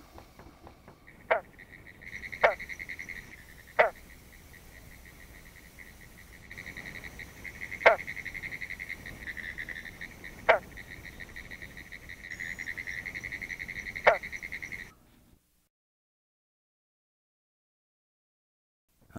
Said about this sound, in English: the single notes of the territoriality call of individual green frogs can be heard throughout the summer